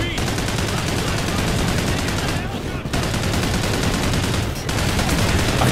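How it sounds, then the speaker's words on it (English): Sustained bursts of mounted machine gun fire in Call of Duty: Ghosts rattle loudly and nearly without break, with two short pauses. "Get on that gun and lay down fire!"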